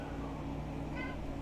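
A single short cat meow with a synthetic, game-like quality from the video game Star Trek Online rises over a steady low background hum, fairly quiet.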